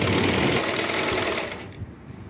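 A sewing machine stitches a yoke nighty in a rapid, loud mechanical run that slows and stops near the end, followed by a few faint handling sounds.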